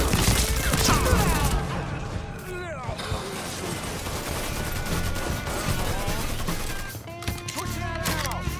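Gunfire in the video game Mafia III: dense, continuous bursts of shots and impacts across the whole stretch, loud and busy, mixed with game sounds and voices talking underneath.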